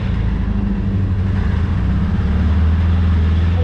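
A 1983 Toyota Celica with a 22R four-cylinder engine idles in a loud, steady, low drone with a slight rhythmic throb, heard close up and alone.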